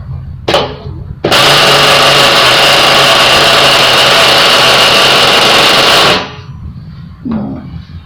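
Nitro engine of a remote control bus, a toy motorhome, roars loud and steady at a high pitch for about five seconds after a short rev, then cuts back to a low idle with brief blips.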